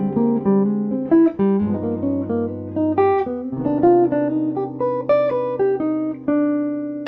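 A jazz lick built from the melodic minor scale plays as a flowing line of single notes over sustained low bass notes, clean and close with no voices.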